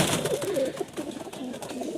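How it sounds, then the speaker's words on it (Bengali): Pigeons cooing in a crowded loft, soft throaty coos repeating in an irregular stream at moderate distance, overlapping one another with a faint background murmur. "এই নর্থ সেকশানে দেখুন পায়রা আছে প্রচুর বন্ধুরা"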